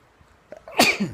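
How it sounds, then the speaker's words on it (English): A single loud sneeze, preceded by a short sharp intake of breath, close to the listener. "Hang on, I'm going to sneeze."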